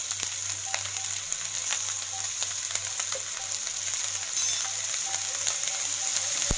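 Vegetable fried rice with soy sauce stir-fried in a pan, a continuous soft sizzle with a low steady hum underneath and faint stirring ticks throughout.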